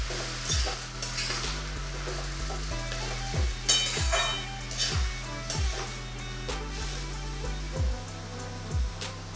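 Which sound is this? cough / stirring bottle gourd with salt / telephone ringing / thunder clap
stirring bottle gourd with salt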